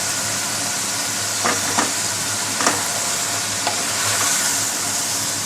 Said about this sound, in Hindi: अब साथ इसमें जो हमने आलू काट के रखे हैं वो मिक्स डाल देंगे